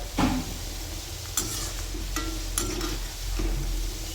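Chana koliwada frying until crisp in oil, with a steady sizzle and a few sharp scraping stirs of a utensil in the pan, heard up close with no voices.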